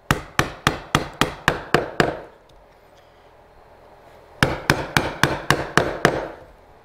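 A chisel is struck into wood during drawer making, a fast run of about eight sharp, close mallet-like hits, a short pause with faint scraping, then another run of about eight crisp strikes.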